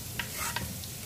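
Red onions going into garlic frying in oil, stirred with a utensil: a brief, soft sizzle with a few quick scraping stir strokes, fairly quiet.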